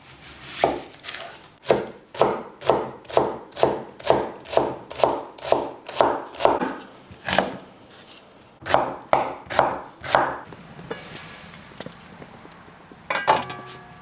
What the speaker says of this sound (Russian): Следующим этапом мы нарезаем